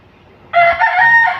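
A rooster from a flock of chickens for sale crows loudly and close after a half-second pause, one strong sustained cock-a-doodle-doo that holds for about a second.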